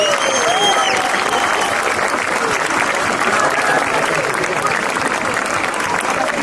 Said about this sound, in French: Je crois qu'on peut applaudir encore une fois très fort les équipes de Disneyland Paris et tous ces cast members.